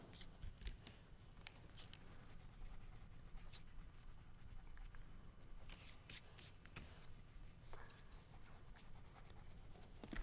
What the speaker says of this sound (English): then we're gonna fill them in with the white crayon.